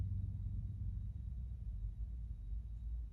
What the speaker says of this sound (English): People with loud trucks, man.